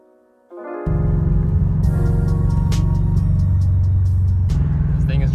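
An Acura RSX running rough, unable to rev past 3,000 rpm, starts up and settles into a loud, close, steady engine drone with a coarse, uneven tone and a brief higher whine partway through.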